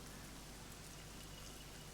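Steady, dense rain falls evenly throughout, a constant wash of raindrops on surfaces with no pauses and no voices.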